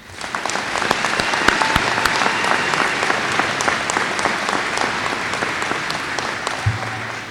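Applause for magna cum laude graduates at the Terra State Community College 2019 commencement, a large audience clapping in a full, sustained wash with distinct nearby claps popping out and a brief thump near the end.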